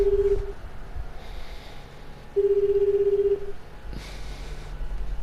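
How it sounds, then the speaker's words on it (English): A telephone number is dialed on a phone, with a few short steady tones spaced apart against a quiet, low background hum. "made a phone call"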